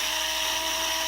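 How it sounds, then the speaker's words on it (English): A power drill with a larger bit whines steadily at high pitch while boring a hole in a Squier Bullet Telecaster pickguard, close and continuous for about a second with no talk. "We got a bigger drill bit. We're going to drill this little stupid hole now."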